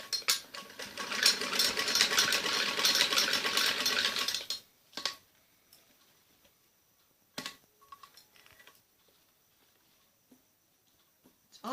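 A sewing machine stitching the shoulder seam of an umbrella frock runs in a steady, fast mechanical whir for about four seconds, then stops, leaving quiet handling clicks and a few faint taps.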